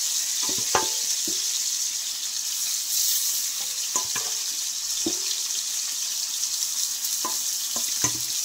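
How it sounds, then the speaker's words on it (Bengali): Fish fries in oil in a kadai, giving a continuous close hiss with scattered thuds and clinks of handling, with no talk over it. "এখন আমি মাছগুলো ভেজে নেব।"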